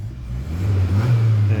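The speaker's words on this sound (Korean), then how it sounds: "그냥 편안한 4기통 세단의 전형적인 사운드입니다" Hyundai Sonata The Edge with a 2.5-litre four-cylinder engine pulling away on a road, a steady low mid-pitched hum that swells slightly as it accelerates, heard from inside the car with no exhaust growl.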